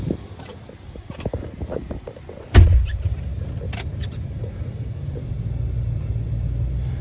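Inside an old truck, a door thump is followed by a steady low engine rumble as it drives, with a few lighter clicks and rattles early on.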